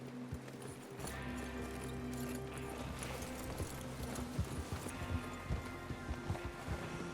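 Horses gallop in Red Dead Redemption 2, a rapid rhythmic clip-clop of hooves that grows more pronounced in the second half, layered over a low steady hum and rumble.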